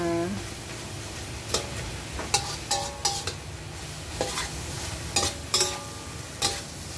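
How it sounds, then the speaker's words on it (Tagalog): Bitter gourd and egg frying in a pan with a little water added, a steady sizzle broken by repeated scraping and stirring clinks of a utensil against the pan, close by. "frying bitter gourd with egg"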